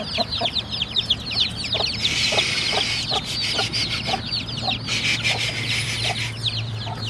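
Chickens cluck in short repeated bursts nearby on a Turkish village farm, with a constant stream of high chick peeps running underneath and a low hum behind.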